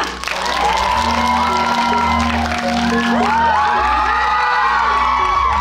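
An audience applauds and cheers as the cast and director of Connect take the stage at a fan preview screening, the crowd noise loud and sustained, with whoops and a low musical hum underneath.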